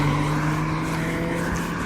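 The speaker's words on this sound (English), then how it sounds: "there's like 5 sports cars in a row just passed by" Several sports cars from a car club pass one after another, a continuous loud roar of engines and tires that stays close and steady throughout.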